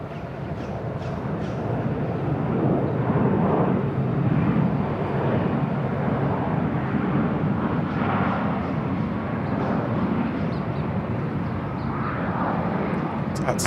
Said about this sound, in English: the 737-800 freighter